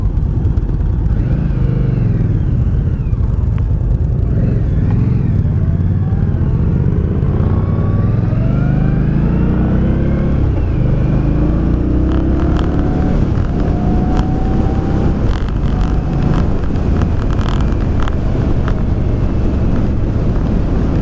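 A 2018 Indian Scout motorcycle engine idles at about 1100 RPM outdoors, a steady loud low rumble with wind buffeting the microphone throughout.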